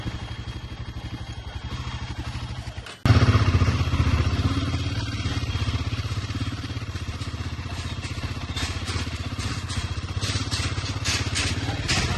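A Royal Enfield Himalayan 450 motorcycle idles with a steady, close thrumming engine pulse. After a brief dropout it comes back louder and keeps running with rhythmic exhaust beats and some mechanical clatter.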